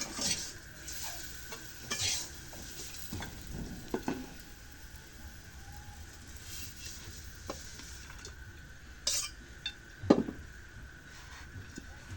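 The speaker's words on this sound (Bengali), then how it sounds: "এখন ভাজিটা হয়ে গেছে এখন ভাজিটা নামায় নেই" Fried vegetables are stirred in a pan on the stove and then lifted off the heat, with a steady close sizzle and scraping stir strokes, plus a few louder clinks of utensil against pan.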